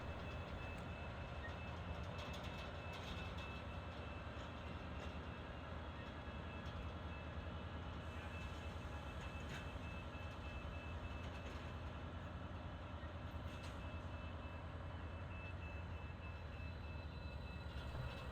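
Pacific Surfliner train with Siemens locomotives idling at a station, a faint continuous low rumble with steady engine drone and occasional metallic clanks, distant and even throughout.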